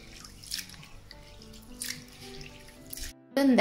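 Water trickles and splashes in a bowl of soaked urad dal with light dripping, then a louder rush of pouring water at the end, close by.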